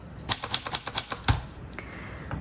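Keys struck on a 1961 Royal Forward travel typewriter to add a comma give a quick run of sharp, close clacks, then one heavier thunk and a faint fading rattle.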